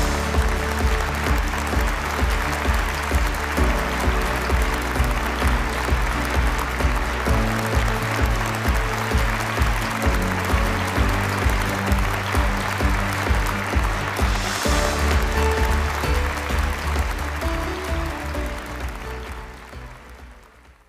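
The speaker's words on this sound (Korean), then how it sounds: "총강을 해주실 진성배 이사장님을 큰 환영의 박수로 단위에 모시도록 하겠습니다." Sustained applause from an audience at a Korean peace forum, welcoming a foundation chairman to the stage; steady, dense clapping holds for about twenty seconds, then fades out near the end.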